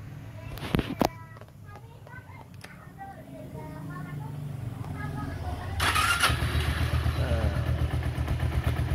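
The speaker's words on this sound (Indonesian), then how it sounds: "kita dengerin langsung suara mesinnya teman-teman" Motorcycle engine started up and running smoothly near the microphone, a steady mid-pitched drone that grows louder after a few seconds, with a few sharp clicks early on and a person talking over it.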